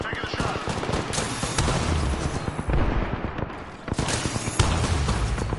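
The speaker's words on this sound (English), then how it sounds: "Oh, I hear gunfire." Rapid bursts of video game gunfire crackle continuously, dense and loud, with volleys overlapping throughout and a brief lull midway.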